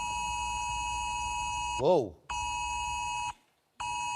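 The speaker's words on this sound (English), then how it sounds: "But we're all going to get a siren emergency alert. So this is a trial." UK emergency alert test tone sounding on phones: a loud, steady multi-tone electronic alarm that cuts off, resumes and stops again, with a person briefly exclaiming in the middle.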